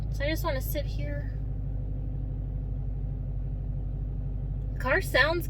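A Ford Mustang GT engine idles with a steady, low rumbling pulse throughout, loud and close from inside the car, while someone talks briefly at the start and end.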